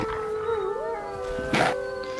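A small wolf in the Valheim video game lets out a wavering, rising howl that holds over steady game background noise, with a brief louder yelp near the end.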